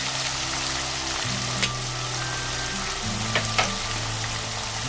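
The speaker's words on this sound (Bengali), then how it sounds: "আর দিচ্ছি পেঁয়াজ বাটা, আদা রসুন বাটা।" Onion paste with ginger-garlic paste hitting hot oil in a pan, a dense steady sizzle close by with a low background hum and a few brief utensil clicks.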